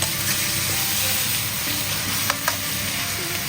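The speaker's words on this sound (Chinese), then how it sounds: "然后每一面都煎得焦焦的" Fujian black wagyu beef searing in a pan without added oil: a steady, close sizzle holds throughout, broken by a couple of brief clinks.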